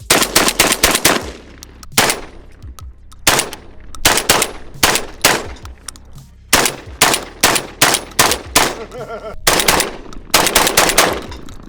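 Orthos Raider S4 12 gauge semi-automatic shotgun fired with birdshot, loud sharp blasts in quick strings of several shots with short pauses between bursts, close and booming outdoors.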